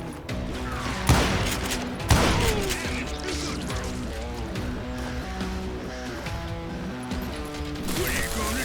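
Gunfire from the Call of Juarez Gunslinger video game: two sharp, loud shots ring out early, then layered western music and action sounds carry on with scattered lighter impacts while a voice speaks.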